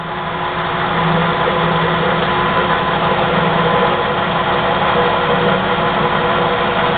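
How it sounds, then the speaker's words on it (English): An ENCO 13 x 40 bench lathe runs with a steady, loud motor hum and drone throughout, even and unchanging, with no speech over it. "Now what we'll do is we will turn it on here. Okay. So the machine's running okay."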